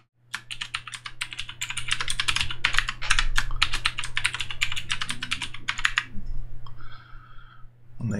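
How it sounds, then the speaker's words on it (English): Rapid keystrokes on a computer keyboard as a password is entered during a Windows Server 2022 install, a steady run of close, crisp clicks for about six seconds over a low hum, then a few scattered taps. "Enter a password."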